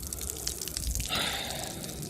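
Coolant drips and trickles out of a Nissan Armada or Titan radiator, a close, continuous watery patter and splashing with a brief gushing swell partway through.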